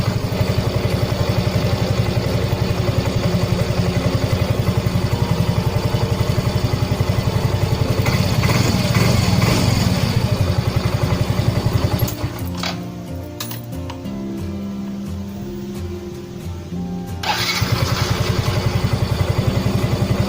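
A Yamaha Mio M3 scooter engine idles steadily up close during an idle-speed adjustment at the air screw, its loud even putter dropping to a lower, quieter idle for several seconds before rising back.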